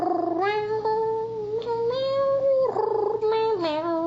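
A person meows the Canadian national anthem, imitating a cat with a series of sustained, tuneful meows that rise and fall in pitch, loud and close.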